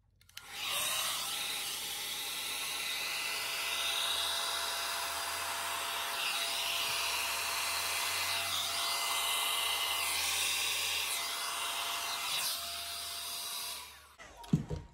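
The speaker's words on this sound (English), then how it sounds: "I just bought this new small hairdryer, which doesn't actually blow that well," A small, weak hair dryer blows over fluid acrylic paint on a round placemat, a steady close airy hiss with a faint motor whine, shifting slightly as it moves, for about thirteen seconds before switching off with a few handling knocks.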